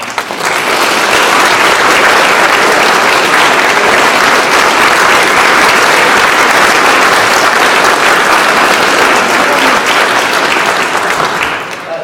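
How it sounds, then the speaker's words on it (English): Sustained applause from a concert audience after a handbell choir performance at a Lutheran church, dense clapping filling the room at steady loudness for the whole stretch before tapering slightly at the end. "please, another round of applause for the First Lutheran Church"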